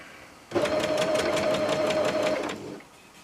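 Sewing machine stitching a messenger-style shoulder bag, with a fast, even run of needle strokes for about two seconds. It is close and loud, with a faint whine, and it starts and stops abruptly.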